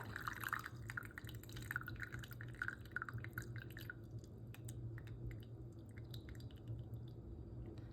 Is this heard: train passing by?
no